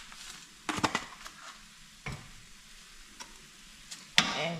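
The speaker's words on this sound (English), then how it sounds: "And you just stir it in." A spoon scrapes and taps against a pot while garlic salt is stirred into curry goat, producing a few sharp knocks and clinks over a faint low simmer, close by with no voices.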